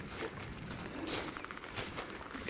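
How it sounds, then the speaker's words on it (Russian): Pigeons or doves heard faintly outdoors on a hot day along a walking route near Golitsyno, with soft cooing and rustling over a quiet ambient background. "А у меня тут птички, по-моему, опять."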